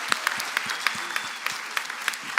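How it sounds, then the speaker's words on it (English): Audience applause at a mayoral candidate forum on arts equity, a full steady round of clapping from a crowd with distinct individual claps standing out, continuous throughout. "Let's give them a round of applause for that first round."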